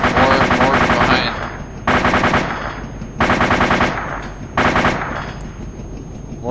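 Automatic gunfire in the video game ARMA 2, with four loud close bursts of rapid shots, each roughly a second long, separated by short pauses and fading echoes.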